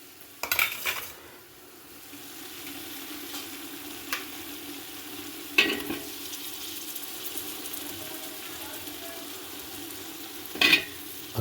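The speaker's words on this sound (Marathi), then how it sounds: "टमाटे घालून झालेत. त्याला चांगलं परतून घेऊयात." Tomatoes sauté in a pan for dal tadka, giving a steady moderate sizzle with a few sharp utensil clinks and stirring scrapes against the pot.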